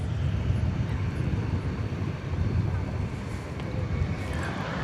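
An American Airlines Airbus jet, an A321, roars steadily at DFW airport at night, a moderate, continuous engine rumble with some wind buffeting and occasional talk over it.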